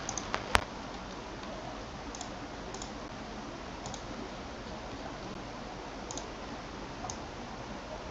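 A computer mouse clicks a few times at a quiet desk during work in Figma, with a sharp louder click near the start followed by faint, sparse clicks.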